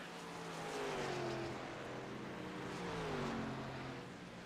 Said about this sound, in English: Eric continues to race around the track here.